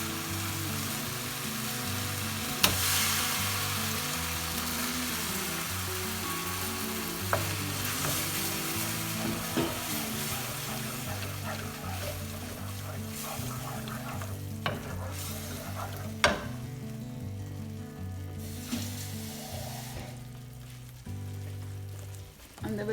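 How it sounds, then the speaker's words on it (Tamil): Cooked dal is stirred and fried in a pan for a Tamil Nadu style dal fry, with a steady close sizzle and repeated scraping stir strokes throughout, faint distant sounds in the background. "நம்ம வேக வச்சு வச்சிருக்கிற இந்த பருப்பை வந்து உள்ளே ஊற்றிடலாம்."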